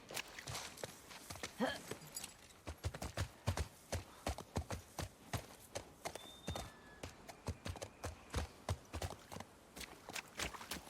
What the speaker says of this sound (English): where'd the horse go? Oh, it just wandered over there